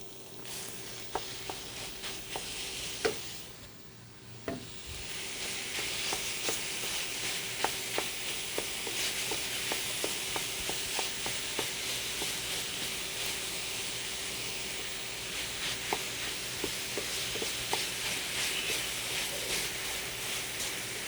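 Ground beef frying in a pan with onions and garlic, with a steady broad sizzle and hiss that briefly dips before returning fuller, dotted with light crackles and occasional clicks of stirring.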